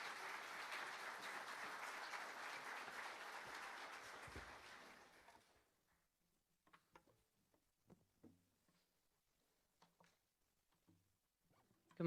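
A church congregation at a Sunday service applauds after a song, dense clapping filling the room for several seconds before fading out, followed by a few quiet shuffles and taps.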